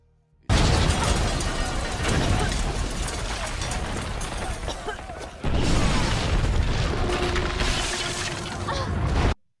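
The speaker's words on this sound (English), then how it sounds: "he activates the Nightfall Protocol and returns to Wayne Manor, just in time for it to explode." Wayne Manor explodes in the video game Batman: Arkham Knight. Two loud, dense bursts of booming, crashing debris and rumble roar up abruptly, the second after a short dip, then cut off sharply.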